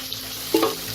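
Bhetki fish pieces fry in oil, giving a steady close sizzle with one brief louder bubbling surge partway through, and no voices.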